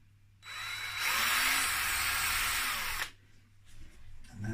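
A power drill bores a small hole into the side of a Yamaha Pacifica electric guitar body, a steady loud whine lasting about two seconds with quieter handling noise before and after.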